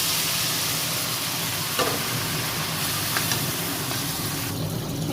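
Taro leaves being stirred and fried in a pan with cumin and coriander powder, a steady close sizzle with scraping stir sounds throughout.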